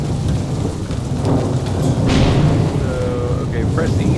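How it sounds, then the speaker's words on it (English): Heavy rain pours steadily in the video game NecroVision while a deep thunder rumble rolls through, loud and close, with faint game sounds mixed in. "Looks like someone up there is crying over our fate. In England, we call it rain."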